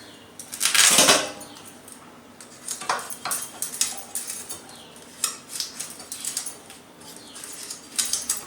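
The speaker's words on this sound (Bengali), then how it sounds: "এবার আমি কুমড়ো কাটবো।" Knife cutting through pumpkin on a board in a kitchen, a series of sharp close chopping knocks and scrapes in irregular bursts, loudest near the start.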